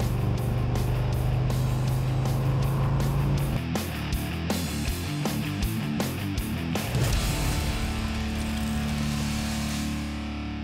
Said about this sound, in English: my buddy Tim from Fat Man Fabrications is letting me drive this awesome 1967 Ford F-100. It sounds great